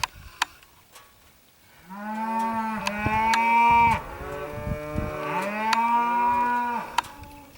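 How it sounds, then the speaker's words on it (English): Several cows moo loudly in long, drawn-out calls that overlap, with a few sharp clicks around them and no talking. "What is wrong with those crazy cows?"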